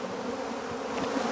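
Bees buzz in a steady, continuous drone that stays fairly loud and close throughout, with no voices over it.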